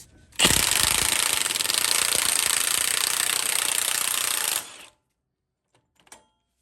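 A loud impact wrench hammers continuously for about four seconds on an axle nut of a 2002–2009 Chevy Trailblazer or GMC Envoy during wheel bearing and hub replacement, then cuts off, followed by a faint clink.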